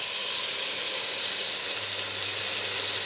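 Bacon and sausage fry in a pan for Polish żurek soup, giving a steady, even sizzle and crackle that runs unbroken throughout, close and moderately loud with no voices.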